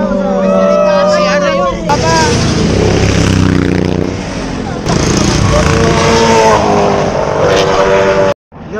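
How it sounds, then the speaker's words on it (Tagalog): A Honda Beat scooter arriving at an endurance ride meetup in Urdaneta, engine revving and rising over a loud mix of other motorbike engines, with people talking nearby. "Fourth to arrive. Honda Beat. Motor."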